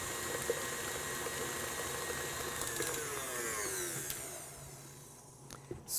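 An electric mixer blends cheese blintz filling with vanilla, giving a steady whirring motor with a wet churning texture that runs on evenly and fairly quietly, then tapers off near the end.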